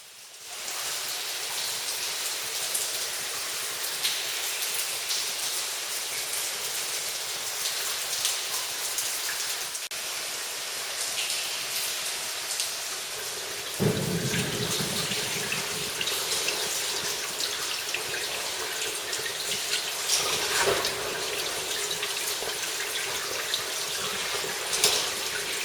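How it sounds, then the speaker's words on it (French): Underground stream of the Grande Vieille pouring down a thirty-metre shaft inside the Gouffre de l'Avenir cave at Savonnières-en-Perthois: a steady, close, hissing rush of falling water, continuous throughout with a slight swell in the low roar midway. "nous rejoignons le ruisseau de la Grande Vieille, qui tombe de ce joli puits d'une trentaine de mètres"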